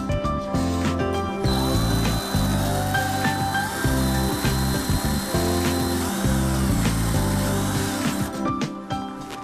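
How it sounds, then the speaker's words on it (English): A power drill bores a pilot hole into the wall to install a cast stone fireplace mantel leg. It whirs in short, uneven bursts with rising and falling motor pitch, close and loud. "We're ready to pre-drill our hole."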